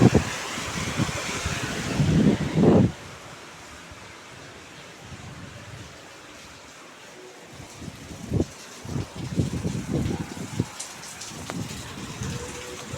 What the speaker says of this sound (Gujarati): હજી પવન અને વરસાદ સતત ચાલુ જ છે